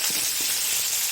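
Carrots and other vegetables sizzle in a hot frying pan while a vegetarian khichuri is cooked, giving a steady, close, bright hiss of frying with a couple of brief sputters near the start.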